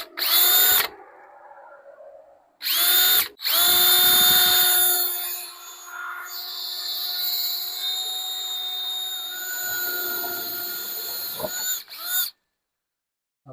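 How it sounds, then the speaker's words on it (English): A power drill boring through a barn wall, whining in several loud bursts, with one long sustained run of steady high-pitched motor drone before it stops. "I drill right there, see if we get through."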